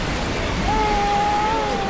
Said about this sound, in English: Is it starting to rain? Yeah, it is.